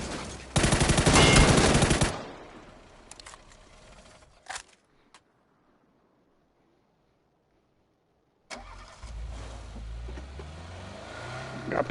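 Loud automatic gunfire from a car drive-by in PUBG, a rapid burst lasting a couple of seconds followed by a few scattered shots, a stretch of near silence, then a vehicle engine rumbling back in.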